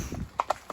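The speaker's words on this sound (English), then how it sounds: "she is a horse, she's a flight animal, she's a prey animal." A horse's hooves strike the ground in a few close, distinct clip-clops, three sharp hits spaced unevenly over a quiet background.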